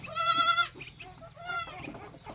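A goat bleats loudly and close by on a farm during hand milking, two wavering calls with a short gap between, followed by softer animal and background noises.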